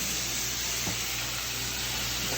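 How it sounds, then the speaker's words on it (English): Loud, steady sizzling fills the whole clip, a dense crackling hiss of chicken frying hot in a pan with lemon juice, with no voices. "Sizzle, crackle, pop."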